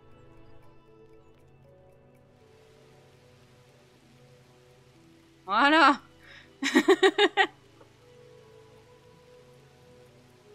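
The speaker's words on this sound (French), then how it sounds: "Je vais mettre de l'eau, de la pluie." Rain falling in the video game The Universim, a soft, steady patter in the background while someone briefly speaks over it.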